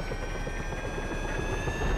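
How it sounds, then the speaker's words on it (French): A helicopter in Grand Theft Auto V, its rotor and engine droning steadily throughout as it comes in to land, fairly loud and close, rising slightly toward the end, with no talk. "L'hélicoptère."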